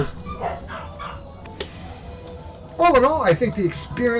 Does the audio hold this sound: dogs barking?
yes